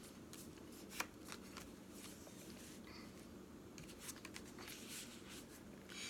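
Paper from a gift bag is folded in half to make a small note card, giving close, quiet crinkling and sliding rustles in short bursts, with a soft tap near the start.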